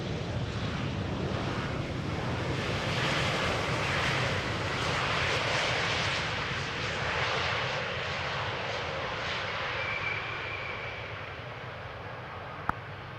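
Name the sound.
Embraer 190 airliner landing at Amsterdam Schiphol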